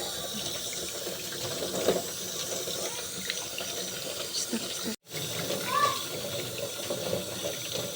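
Tap water runs steadily into a sink while herbal leaves for a dengue and UTI tea are washed by hand, a close, continuous splashing with a brief cutout midway and occasional speech over it.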